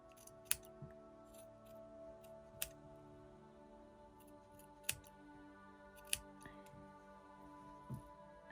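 Scissors trim a cardboard Christmas gonk decoration with a few sharp, isolated snips spaced a second or two apart, close and quiet against a faint steady hum.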